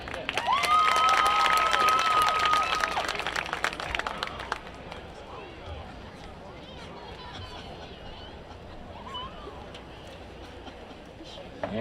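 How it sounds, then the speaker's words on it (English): A stadium crowd applauds and cheers for senior cheerleaders on senior night at a high school football game, loud broadband clapping for about four seconds, then a quieter murmur of crowd noise with a faint whistle-like tone early on. "a final round of applause for our senior cheerleaders"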